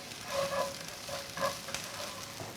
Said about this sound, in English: Then we will fry onion. We are going to fry onion for 2 minutes